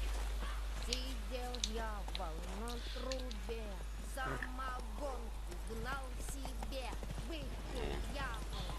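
Hooves of the horse Roach clip-clop at a gallop in The Witcher 3, a steady rhythmic beat running under someone speaking Russian throughout.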